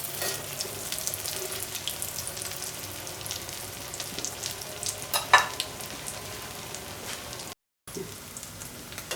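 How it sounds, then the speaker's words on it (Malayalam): Sprouted green gram cutlets deep frying in hot oil, a steady crackling sizzle with a few louder pops and stirring noises, close and uninterrupted by speech. "ഇതിപ്പോൾ ഡീപ്പ് ഫ്രൈ ആണ്"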